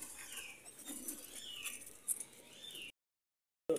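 Ferozpuri pigeons, a teddy golden breeder pair, flap their wings in a few faint, soft fluttering bursts against a quiet background with an occasional low coo, then briefly go silent.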